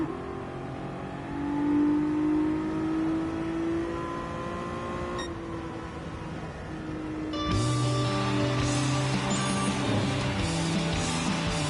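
Race car engine on a circuit lap in the video game GT Sport, a steady droning whine that rises and falls with gear shifts, moderately loud and alone.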